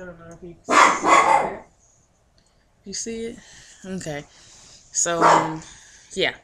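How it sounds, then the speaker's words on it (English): A dog barks in loud, close bursts of several barks, with pauses in between, alternating with a person speaking. "Excuse my dog barking."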